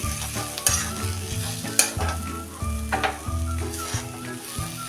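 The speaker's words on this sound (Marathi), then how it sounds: "आता हे एकसारखं हलवून आपण हे सर्व करूया" Spoon stirring dry pithla (gram flour) with fresh coriander and grated coconut in a pan, a steady scraping and light sizzle running under background music.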